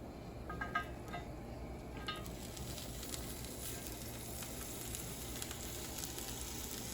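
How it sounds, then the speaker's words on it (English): Korean short ribs sizzling on a cast iron grill skillet over very high heat, a steady, close hiss throughout, with a few metallic clinks near the start and no talking. "Now we're gonna grill them probably about 5 to 6 minutes, depending on how hot your grate is."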